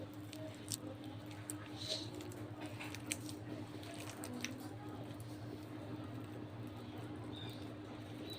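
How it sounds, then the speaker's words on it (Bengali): Boiled taro being mashed by hand, soft wet squishing and squelching at close range over a low steady hum, quiet and continuous with no talk. "কচুটা আমি ম্যাশ করে নিচ্ছি হাত দিয়ে।"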